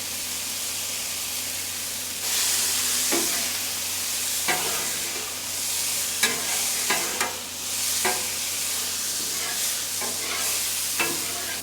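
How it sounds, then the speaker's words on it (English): Pork meat sizzles on a hot Blackstone griddle in an even, loud crackle. Spatula scrapes and clacks break in every second or so, with no voices over the cooking. "Now the pork meat doesn't take too much to cook in here"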